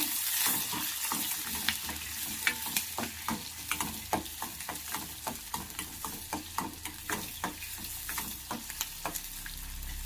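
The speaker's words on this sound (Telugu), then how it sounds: "ఆనియన్స్ వేసి తర్వాత కొద్దిసేపు ఇలా ఫ్రై చేసుకోవాలి" Onions fry in oil in a pan for a Telugu brinjal bajji dish, with a continuous sizzle under repeated scraping stirs of a spoon, close and steady throughout.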